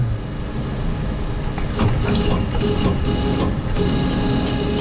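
A Linmac plate rolling machine rolls a steel plate, producing a loud, steady mechanical grinding rumble with faint metallic clicks and creaks, close by and without talk.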